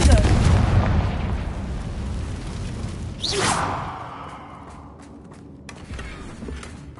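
A Confringo blasting spell from Hogwarts Legacy goes off, a single whooshing burst with a rumbling boom that fades over a couple of seconds, rising over a busy, constant game ambience.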